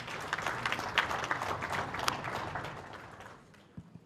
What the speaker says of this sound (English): Please give the Minister another round of applause.